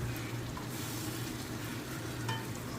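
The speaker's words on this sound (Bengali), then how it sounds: "এবার আমি এখানে ভাজা চিংড়ি মাছগুলো দিয়ে দেবো এর মধ্যে দিয়ে আমি আবারও ভালো করে কষিয়ে নেব" Fried shrimp sizzling in oily spice masala for a shrimp malai curry, with a continuous close frying hiss and the scrape and clatter of stirring throughout.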